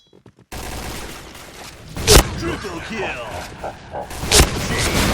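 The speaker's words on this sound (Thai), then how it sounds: "โอ้ โห ยิงเอาเรื่องว่ะ" Gunfire in the online shooter Point Blank: two loud, punchy shots about two seconds apart stand out over steady game noise, with a voice talking underneath.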